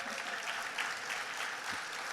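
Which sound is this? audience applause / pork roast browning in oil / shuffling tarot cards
audience applause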